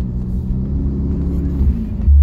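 V12 engine of a Ferrari California fitted with exhaust cutout valves, a loud, close, deep rumbling drone that swells into a heavier low roar at the end.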